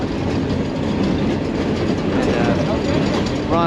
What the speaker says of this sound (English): We're on a train ride back.